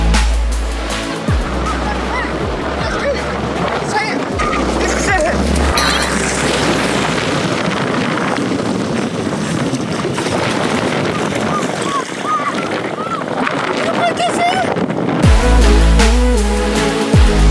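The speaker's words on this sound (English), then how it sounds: "Truck driving on the water!" Truck driving through shallow, freezing beach surf on a snowy shore, its engine rumble and splashing water loud and continuous throughout, with rushing waves around it and voices shouting near the end.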